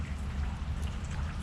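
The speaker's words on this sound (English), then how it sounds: "hoping this rain will chill out a little bit, but it's not looking good" Rain falling steadily outdoors on a fishing trip at the water's edge near Jacksonville, Florida, a dense continuous patter of drops close by, with no talking.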